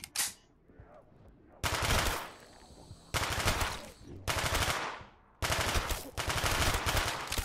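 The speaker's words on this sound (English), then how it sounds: "The SMGs in Call of Duty Black Ops 1, I think they're pretty cool." Submachine gun fire from Call of Duty Black Ops 1 on the Moon map, loud sustained automatic bursts in four or five separate volleys with short gaps between them.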